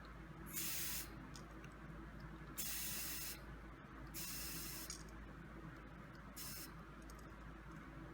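A 25 mm Gatorskin hard-shell bicycle tire is pumped up with air in four evenly spaced hissing strokes, close and fairly quiet, over a steady low background hum.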